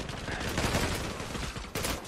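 Rapid bursts of M4 automatic rifle fire crackle continuously in the video game Zula, loud and dense, with a brief break before another volley.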